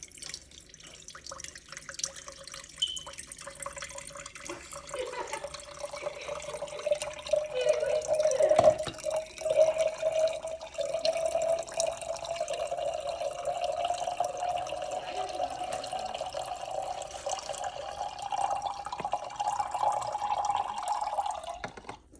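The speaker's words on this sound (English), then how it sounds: "Clean filtered water." Tap water running steadily through a filtration system, a continuous pouring stream that grows fuller and brighter as it goes, close by with no talk over it.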